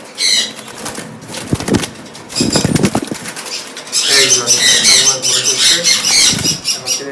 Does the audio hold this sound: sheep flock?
no